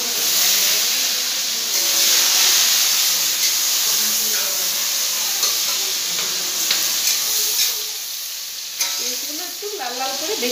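Chopped onions frying in hot oil in a pan, a loud, close, continuous sizzle with bright hiss and occasional stirring clinks, steady for the whole stretch.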